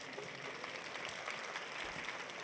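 A conference audience claps in a dense, steady wash of applause, fairly quiet and heard from a distance, lasting only a couple of seconds.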